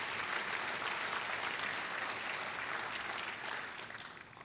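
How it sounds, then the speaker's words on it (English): Sustained audience applause fills a room at an education leadership awards gala, a dense, steady wash of many hands clapping throughout, easing slightly toward the end. "Let's give them a round of applause, too."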